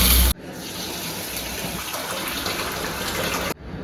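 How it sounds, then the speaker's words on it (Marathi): Long-grain rice being washed for biryani, with water gushing and splashing steadily and close for a few seconds before stopping abruptly; no talking. "तर इकडे 2-3 पाण्याने आता स्वच्छ धुतलंय"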